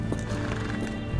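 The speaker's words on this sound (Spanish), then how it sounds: "Mira el caballo." A horse in the PC game Sherlock Holmes The Awakened whinnies while its hooves clip-clop steadily, close and fairly loud over a constant low in-game ambience, with no talking.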